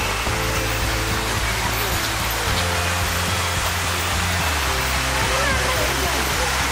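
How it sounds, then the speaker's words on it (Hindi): A waterfall at Chandigarh Bird Park gives off a steady, broad rushing roar, loud and constant, with voices faintly audible over the flow. "इतना अच्छा झरना भाई,"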